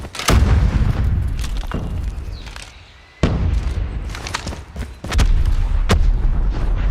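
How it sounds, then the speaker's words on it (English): Deep booming blasts and sharp gunfire in a Call of Duty Mobile match, including a grenade explosion, with several loud close impacts and crackling shots scattered across a few seconds. "Grenade out!"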